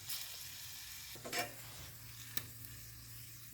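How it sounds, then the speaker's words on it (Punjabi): A soft, steady sizzle of hot oil as spice tempering is poured over fresh green pea dal, with a faint stir and a small clink partway through. "ਹੁਣ ਦਾਲ ਨੂੰ ਲਾਵਾਂਗੇ ਆਪਾਂ ਤੜਕਾ"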